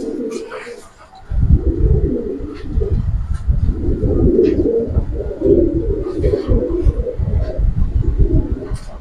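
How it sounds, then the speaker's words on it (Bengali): Giribaz pigeons cooing close by, a pair with pebble-coloured eyes, their low throaty coos rolling in repeated pulses while someone talks over them. "কবুতর জোড়া পাথর চোখের কবুতর"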